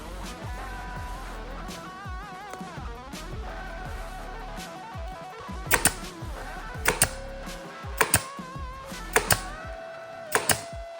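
A staple gun fastens upholstery material onto a car center console, firing about five sharp, close snapping shots, some in quick pairs, over steady background music.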